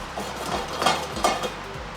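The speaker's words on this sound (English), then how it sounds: "We want this one to be really hot because we want to sear the chicken so it stays together" Chicken sears in very hot oil in a frying pan, giving a steady close sizzle with some soft clinks and stirring scrapes.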